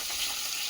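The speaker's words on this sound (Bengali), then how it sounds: "আর এই ভেটকি মাছ এখন নুন হলুদ মাখিয়ে ভেজে নিচ্ছি" Bhetki fish pieces coated in salt and turmeric fry in hot oil, giving a steady, bright, hissing sizzle that stays even and fairly soft throughout the brief moment.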